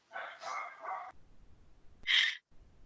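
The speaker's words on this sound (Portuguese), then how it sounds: "Tem um bichinho aí latindo." A dog barking over an open microphone during a live online class, a run of three quick muffled barks followed by a single sharper bark after a pause, fairly faint and distant.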